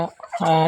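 A backyard rooster gives a short, close, loud crowing call, a brief harsh vocal burst that rises after a tiny pause.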